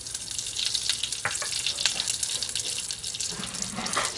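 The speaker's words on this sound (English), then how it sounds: "my mustard seeds have started to splutter" Mustard seeds and fenugreek spluttering in hot oil, a close, dense hiss with scattered crackles and pops running steadily throughout, no voices.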